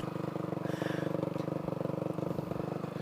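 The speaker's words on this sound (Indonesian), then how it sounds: "Oke, setelah sudah grebek, kita coba motornya." A racing motorcycle engine test-run at night, a close, rapid, even idle putter with a brief rise in revs around the first second, then steady throbbing.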